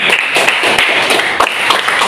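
A classroom of students claps for a student group, a brief burst of scattered, close applause with uneven taps.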